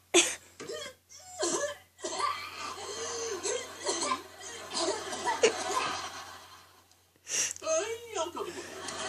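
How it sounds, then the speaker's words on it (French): An actor's staged tuberculosis cough for a TV scene: repeated harsh, breathy bursts of hacking, close and fairly loud, broken by short pauses and mixed with voices and chuckling. "Je te trouve pas très crédible quand tu tousses."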